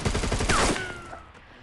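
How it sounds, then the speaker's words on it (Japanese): Rapid burst of video game gunfire, a loud fusillade of automatic shots that drops off into a ringing, echoing tail. The burst is brief and heard alone. "150の方から銃声聞こえるんですけど"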